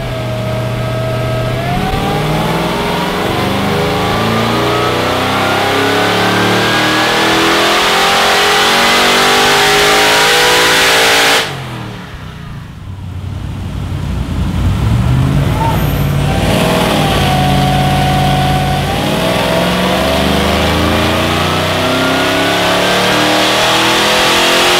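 A car's LSA V8 fitted with a Harrop TVS2650 supercharger revs hard, loud rising and falling engine sweeps with a sharp drop and recovery midway, mostly alone without talk.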